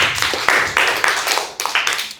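An audience claps for Kalista after a dance critique session, loud, close handclaps in an uneven rhythm with a few distinct sharp bursts, no talking over them.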